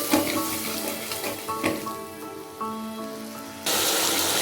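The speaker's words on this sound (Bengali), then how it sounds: "মশলা ধোয়া জলটা দিয়ে দিচ্ছি।" Water used to rinse spices is poured into masala frying in a pan for a Bengali egg and cauliflower curry. It makes a close, splashing, sizzling hiss that swells toward the end, with no talk.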